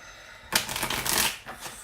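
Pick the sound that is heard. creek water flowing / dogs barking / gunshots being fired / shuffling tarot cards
shuffling tarot cards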